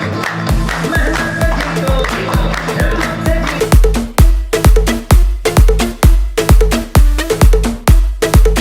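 Seminar audience applauding in a large hall: loud, dense clapping that settles into strong, steady rhythmic claps in unison at about two per second, with music playing along.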